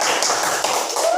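A classroom group claps briefly for a student group, a short dense burst of hand claps with voices mixed in.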